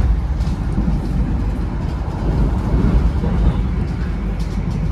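Interior of the moving KA Jayakarta economy train on Indonesia's southern line, a steady dense rumble of wheels and carriage noise with faint periodic clatter, continuous throughout.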